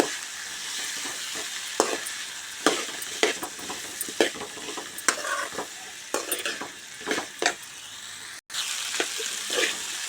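Thinly sliced potatoes frying over fairly high heat, stirred in a pan with repeated scraping strokes and clinks over a constant sizzle, close and clear, with no voices.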